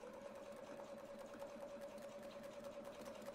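Sewing machine stitching a clamshell quilting pattern, a faint steady mechanical whir with rapid needle clatter running continuously and alone.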